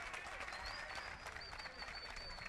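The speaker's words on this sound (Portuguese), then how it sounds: "aplausos para vocês" An audience applauds at a rap battle league final event, a continuous burst of clapping and crowd noise heard at moderate distance, with a voice talking over it.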